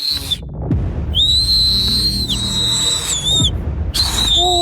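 A person gives several very loud, piercing, sustained whistles in quick succession, close and sharp, with short breaks between blasts and some room noise underneath.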